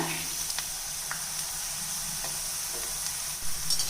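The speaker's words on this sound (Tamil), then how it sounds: "இப்போ பாகற்காய் சேர்த்துடலாம் இதில் கொஞ்சம் மிதமான தீலையே வச்சு பொரித்து எடுத்துக்கலாம்" Steady oil sizzle of bitter gourd frying over medium heat in a pan, with occasional light stirring clinks, continuous and close, no talking.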